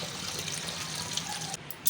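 Drumstick leaves are washed and rubbed by hand under running tap water in a kitchen sink, with a steady, close splashing stream throughout and no talking.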